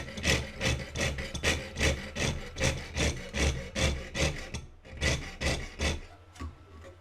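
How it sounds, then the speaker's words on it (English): Rhythmic back-and-forth strokes of a jeweller's saw cutting a leaf shape from 0.6 mm copper sheet, about a dozen steady rasping passes close up, pausing briefly near the end. "I'm just going to saw out that shape"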